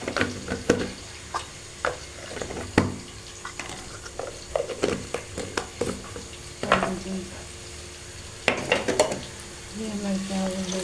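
Onions frying in a pan and being stirred, a low sizzle under repeated scraping and clinking of a utensil against the pan, with a voice talking at times.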